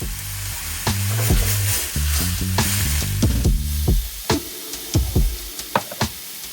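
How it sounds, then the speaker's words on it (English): White wine deglazing a pan after searing salmon, a loud bubbling sizzle with a rhythmic knocking, then sharp scrapes and taps of a utensil against the pan as the hiss settles. "right here I'm deglazing the pan with some white wine"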